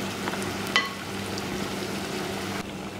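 Godo-godo wheat flour fritters frying in hot oil, giving a steady close sizzle with a brief stir or clink, no talk.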